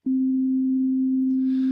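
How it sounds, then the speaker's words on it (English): A synthesizer oscillator set to a pure sine wave sounds one steady, loud tone that starts abruptly and holds unchanged throughout, with a faint breathy hiss creeping in near the end. "The first one is sine wave, and a sine wave is what we would consider a pure tone."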